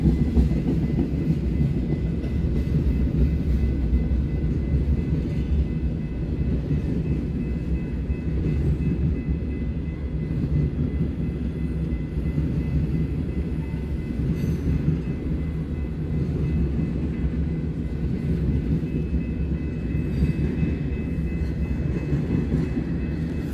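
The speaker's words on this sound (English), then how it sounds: "I thought it was an empty crude train. It is not. It is empty ethanol heading north." A long train of empty denatured ethanol tank cars rolls steadily past, a dense continuous rumble of wheels and rattling cars holding at one loud level throughout.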